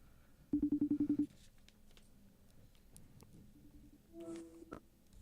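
A telephone call being dialed: a rapid string of about eight evenly spaced dial tones, followed by quieter faint ticks and a few softer tones.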